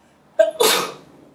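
A single sharp human sneeze, close and loud: a short voiced intake followed by an explosive burst that trails off quickly, with silence on either side.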